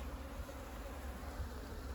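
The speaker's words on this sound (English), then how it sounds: "See, Tyler, there's quite a few bees sitting in here." Honey bees buzz in a hive with mold, moisture and beetles, making a soft, steady low drone that stays faint and continuous throughout.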